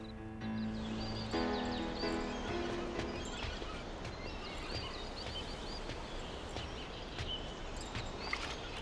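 A horse moving near a house in a telenovela scene, its hooves clip-clopping steadily under music and ambient rustle, with an occasional whinny possible in the busy background.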